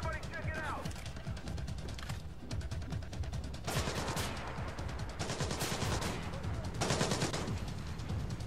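Suppressed rapid gunfire in Splinter Cell Blacklist, a dense run of sharp cracks and bursts over busy game ambience, with a voice talking over it.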